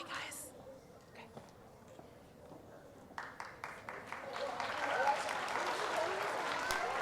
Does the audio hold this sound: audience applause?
yes